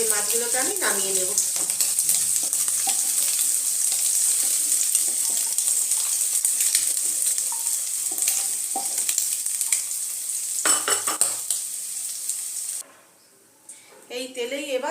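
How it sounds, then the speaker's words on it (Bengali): Potatoes frying in hot mustard oil in a pan after prawns, for a Bengali raw jackfruit and prawn curry, giving a steady loud sizzle with stirring clatter, briefly cut off near the end, with a voice speaking over it. "এই তেলেই এবার আমি এই আলুগুলো ভেজে নেব।"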